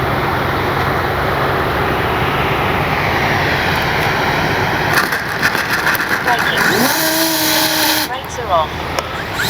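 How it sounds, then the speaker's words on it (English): An E-flite Piper Cherokee RC model plane's electric motor whines steadily in a constant rush during a diving speed run outdoors, with a voice speaking briefly near the end. "That was just seeing how fast I could make this little plane go."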